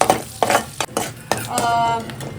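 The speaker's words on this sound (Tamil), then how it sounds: "இந்த பே லீஃபும் பட்டை 2 ஏலக்காய் போட்டு ஒரு 20 to 30 செகண்ட்ஸ் நல்லா சாட்டே பண்ணிக்கலாம்." Bay leaf, cinnamon and cardamom sautéing in a pan for a home-cooked paneer butter masala, with a steady sizzle, a few stirring scrapes and utensil clinks over it, close and fairly loud.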